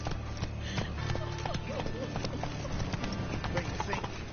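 A horse gallops in the video game The Witcher 3, its rapid, continuous hoof beats drumming close by, with game voices talking over the hooves.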